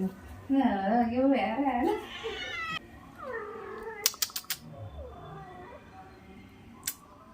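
A kitten meows repeatedly up close in high, wavering cries, followed by a few quick clicks and a softer mew.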